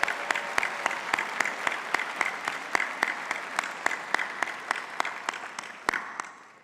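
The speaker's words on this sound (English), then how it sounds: "I think you owe yourself another round of applause." A graduating chemistry class at a commencement ceremony applauds steadily, with dense hand clapping holding through the stretch and sharp individual claps standing out before the sound fades near the end.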